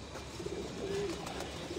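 Racing pigeons coo softly in a loft, a low, brief cooing call rising over a faint background hum, heard at moderate distance.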